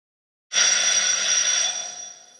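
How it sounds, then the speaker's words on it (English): A quiz contestant's bell at a school quiz competition sounds once after silence, a bright ringing tone that sustains and slowly fades, with no talking. "That was your bell."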